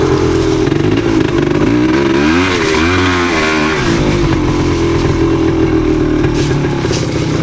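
A 1977 Yamaha DT250 two-stroke motorcycle rides a technical woods trail, its engine loud and close, rising and falling in pitch through revs and gear changes, with continuous clatter and no talk.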